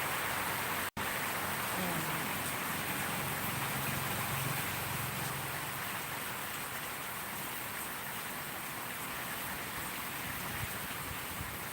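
Heavy rain pours down with wind, a loud, steady hiss of water that barely changes, broken once by a short sharp dropout.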